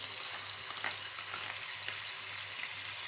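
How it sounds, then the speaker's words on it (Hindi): Onion paste frying in half a cup of hot oil for Lahori chikar cholay, a steady close sizzle with faint crackles and no talking. "ये मैंने ऑयल ले लिया, हाफ कप ऑयल लिया। इसमें ये प्याज का पेस्ट डालती हूँ,"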